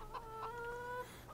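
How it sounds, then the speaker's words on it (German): Chickens clucking in the farming game Farming Simulator 2015, a single steady tonal clucking call lasting about a second, fairly clear over a low background hum, with no talking. "Ich höre die Hühner schon"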